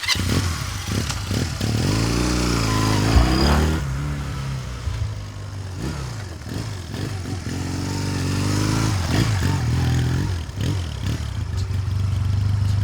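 A 1987 Honda Rebel 250 twin-cylinder motorcycle with a single carburetor and true dual exhaust idles and blips its throttle nearby, a steady low burble rising in a couple of revs before settling back to a throaty idle.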